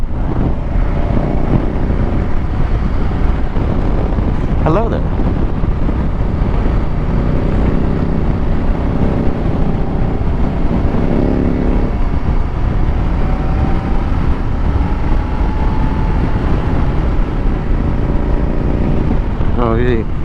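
Bobber motorcycle ridden at higher speed in sixth gear, steady engine drone buried under loud, constant wind rush with a rider talking over it.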